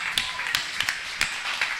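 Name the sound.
congregation clapping hands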